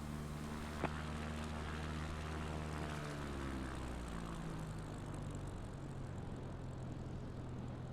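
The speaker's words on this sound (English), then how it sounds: "Taxiing to general aviation parking" A propeller aircraft in Microsoft Flight Simulator taxis to general aviation parking, its steady engine drone humming continuously with a slowly shifting pitch, with no voices heard.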